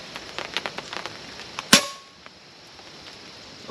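An FX Panthera air rifle fires a boat tail slug with one sharp, loud crack and a short ringing tail, set against faint ticking background sounds.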